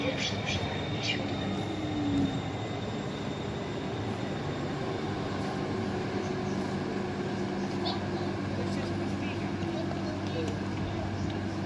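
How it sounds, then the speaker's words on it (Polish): SKM S1 commuter train arriving at Warszawa Wschodnia station in Warsaw, a steady rumbling rail drone with faint squeals, heard throughout under a Polish platform announcement. "Pociąg SKM S1 ze stacji Prusznic do stacji Otwock jedzie na tor 21 przy peronie 7"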